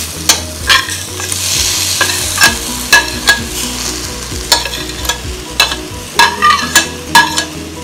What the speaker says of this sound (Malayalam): ഈ മുളക് പൊടിയും ഇതൊക്കെ ഒന്ന് ചൂടായി വന്നിട്ടുണ്ട്. അപ്പൊ അതിലേക്ക് നമ്മൾ അരിഞ്ഞു വെച്ചിരിക്കുന്ന ഇരുമ്പൻപുളി,